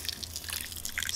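Half a cup of boiling water splashes and trickles into a bowl of potatoes, with bright bubbling drips over a low background hum.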